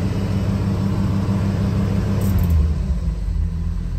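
A Jeep YJ engine raised above idle with a Teraflex hand throttle, giving a steady low rumbling drone that holds close and loud, with a slight dip near the end and no voices.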